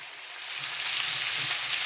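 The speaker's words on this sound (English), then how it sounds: "Let that fry up a little bit" Sliced potatoes and onion sizzle in a skillet, a steady crackling hiss that swells in loudness over the short span, close and without talk.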